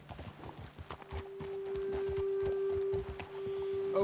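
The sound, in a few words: horses' hooves clip-clopping in video game Red Dead Redemption 2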